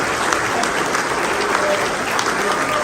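Loud, sustained applause fills the hall as charter members of the Eta Lambda Chapter of Kappa Alpha Psi stand at a 50th anniversary celebration, a thick continuous roar of clapping with crowd noise mixed in.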